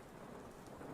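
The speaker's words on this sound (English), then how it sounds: "But you can still hear the sounds of the storm, even though it's not raining as hard as it once was." Rain falling during a storm, a steady dense wash of drops with a low rumbling undertone, faint and continuous for about a second.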